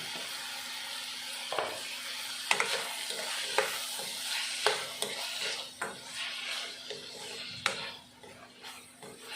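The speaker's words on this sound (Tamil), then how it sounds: "இது ரெண்டும் கலந்து கொஞ்சம் நல்லா எண்ணெயில் கொஞ்சம் வேகட்டும்." Vegetables with salt frying in oil in a pan for an egg potato masala, a steady close sizzle with repeated clinks and scrapes of a spoon stirring against the pan throughout.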